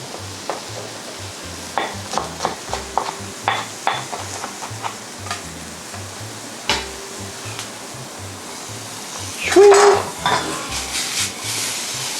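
Shiitake mushrooms and ginger stir-fried together in a pan, a soft continuous sizzle under repeated scraping and tapping strokes of a spatula, with a louder burst of clatter toward the end.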